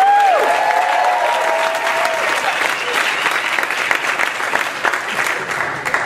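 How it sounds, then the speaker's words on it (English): Sustained crowd applause greets contestant Jeremy at a talent competition. Loud, dense clapping runs the whole stretch, with a brief wavering tone and faint voices near the start. "Applause for Jeremy"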